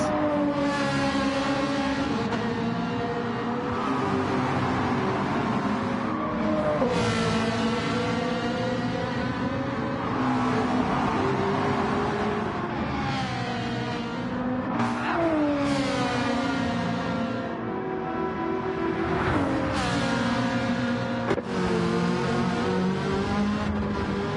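Race cars including a Ferrari and Toyota Supras in the racing video game Gran Turismo 7 roar continuously, with engines revving and shifting pitch as they accelerate and pass, loud throughout with no talking.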